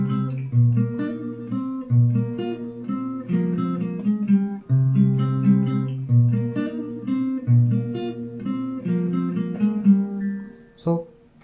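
Bridge section of a song on fingerstyle acoustic guitar, ringing bass notes under plucked upper strings in a repeating pattern, close and clear, fading out at the end without speech.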